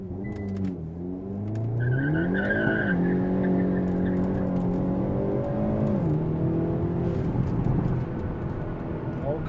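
A Hyundai Elantra N launching slightly uphill with a heavy trunk, its tires spinning: a loud engine roar climbing and falling in pitch, with tire squeal over it.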